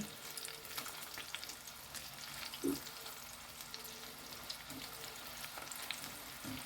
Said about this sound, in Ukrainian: Ну, на невеличкому вогні смажаться.